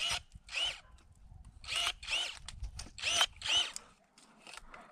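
DeWalt cordless battery pruning shears in a garden setting fire in short motorized bursts, about six quick whirring snips in uneven rhythm, close by and alone against a quiet background.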